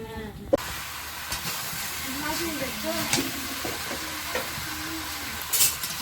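Fried potatoes are stirred into chicken curry in a pan, with a steady close sizzle and hiss and scattered scraping stir strokes and clinks throughout.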